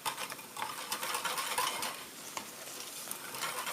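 A whisk stirs creamy potato soup mix in a pot with quick, repeated scraping and swishing strokes that fade somewhat midway.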